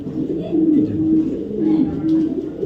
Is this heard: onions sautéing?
no